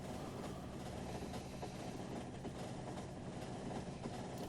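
A train rumbles along the rails in the Factorio video game, a faint, steady rolling noise that holds throughout with no speech.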